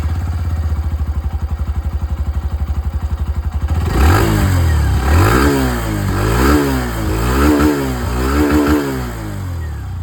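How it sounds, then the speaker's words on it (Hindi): A 2025 Hero Glamour X 125 motorcycle idles with a steady low exhaust putter for a few seconds, then is revved repeatedly, the loud engine note rising and falling in several sweeping pulls up close. "ग्लैमर एक्स की जो आवाज़ है वो सुन लिया"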